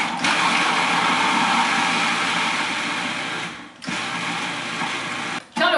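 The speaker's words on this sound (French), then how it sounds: "quand tout est mis dans mon robot mélangeur, je vais mélanger" Food processor pulsing chickpeas and garlic for hummus, a steady dense motor whir running loud and close, with two brief pauses where the blades stop before starting up again.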